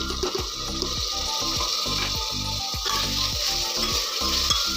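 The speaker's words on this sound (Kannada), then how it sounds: "ಆಲೂಗಡ್ಡೆ ಮತ್ತು ಬದನೆಕಾಯಿ ಅದನ್ನು ಹಾಕೊಂಡು ಸ್ವಲ್ಪ ಫ್ರೈ ಮಾಡ್ಕೊಳ್ಳೋಣ ಎಣ್ಣೆಲೇನೆ" Potatoes and brinjal frying in oil for a sprouted green gram sambar, giving a steady, close hiss of sizzling with repeated stirring scrapes and clinks throughout.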